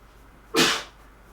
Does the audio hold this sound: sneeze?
yes